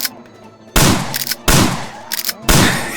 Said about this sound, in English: I'm not even getting a kill for every shot